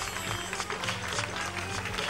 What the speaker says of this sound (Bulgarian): Вашите аплодисменти са за участниците на трето място.